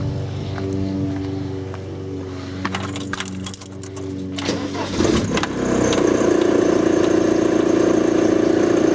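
Keys jingle and a starter cranks before a VW T25 van's swapped TDI engine with overhauled injectors catches and settles into a steady, rumbling diesel idle, close and loud.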